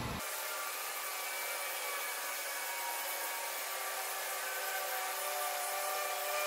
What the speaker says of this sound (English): You can pick up a heat gun like this at pretty much any hardware store. I have this one turned on high.